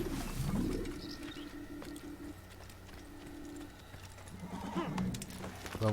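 A horse in the video game Assassin's Creed gives a whinny amid soft game ambience, with faint bird coos and hoof sounds around it, moderately close and without speech.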